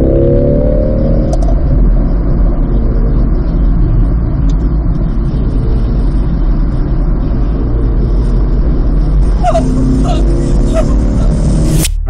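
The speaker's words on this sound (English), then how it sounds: "I think we found an area here that we can launch the car for the first time" A car launches hard for its first time, its engine roaring loud and close as it accelerates through rising, sweeping gear pulls, with voices talking over the steady engine noise.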